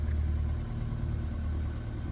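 A sailboat's inboard engine motoring through calm water with no wind, a steady low mid-pitched drone throughout, close and constant with no talk.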